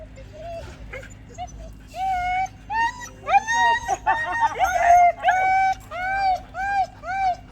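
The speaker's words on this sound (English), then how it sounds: "Oh, it's another dog." A dog gives a run of close, high whines and whimpering yelps in repeated bursts over a steady low background hum, while people talk.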